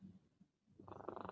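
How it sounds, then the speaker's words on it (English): A cat purrs very faintly and close by, a low rumbling that fades in and out and then swells into a steadier, buzzier purr in a quiet indoor room. "I can hear your cat purring."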